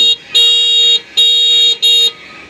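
A new three-wheeled electric bike's horn sounds in loud, flat electronic beeps: a brief tail, then two long blasts and a short final one in quick succession, close and clear with no talking.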